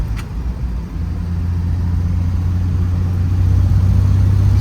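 A car drives in fourth gear with the overdrive switched off. A steady, low engine drone is heard from inside the car and grows slightly louder and heavier toward the end.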